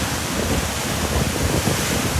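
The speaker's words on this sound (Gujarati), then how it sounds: "અવાજનું પેલું તમે માણો. કુદરતનું સંગીત છે. કેટલો ધોધ જબરદસ્ત પડે છે." Water of a large waterfall roars down steadily in a broad, continuous wash, loud and close with no breaks and no voices.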